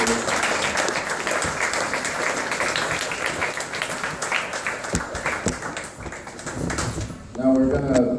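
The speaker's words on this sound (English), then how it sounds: "let's give them a round of applause" An audience applauds at an interfaith dialogue at Drake, a dense round of clapping that fades slightly before a voice starts speaking at the end.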